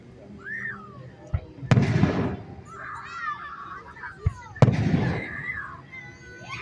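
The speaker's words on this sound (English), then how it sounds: "Terry, watch the fireworks." Fireworks over Nashville Shores: two loud sharp bursts a few seconds apart, each followed by crackling decay, with whistling rising shells and quiet voices of onlookers between blasts.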